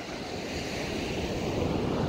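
Ocean waves wash steadily onto a beach, a continuous broadband surf roar with some wind noise on the microphone, no voices.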